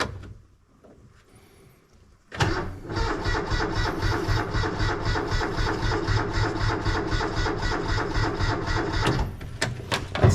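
A Kubota RTV utility vehicle gets a cold start attempt: after a quiet pause, the starter cranks the engine loudly and rhythmically for about seven seconds, then cuts off without settling into a steady idle.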